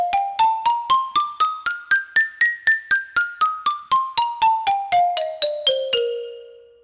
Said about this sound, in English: The xylophone has wooden bars. We usually hit it with a plastic mallet or a wooden mallet